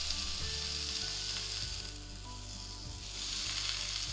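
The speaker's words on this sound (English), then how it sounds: "We put it into the skillet, and within the first 30 seconds of the meat touching the skillet," A smashed burger patty pressed into a hot skillet sizzles loudly and continuously, a dense close hiss that swells and eases slightly, with no voices.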